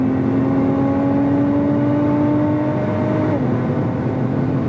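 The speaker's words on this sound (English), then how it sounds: "The titanium exhaust on the new model definitely makes a nice noise." A 2017 Nissan GT-R with a titanium exhaust revs hard on a wet track, its loud sustained engine tone climbing steadily in pitch for several seconds, then dropping sharply as the throttle lifts, with continuous road and wind roar beneath.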